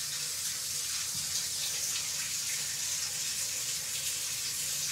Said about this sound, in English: This young Melo just having fun taking a shower